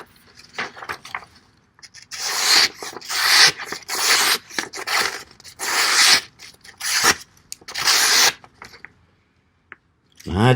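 A CJRB Kicker Recoil folding knife slicing through a sheet of paper, giving a run of rough, papery rasping strokes in short bursts with brief pauses, close and fairly loud.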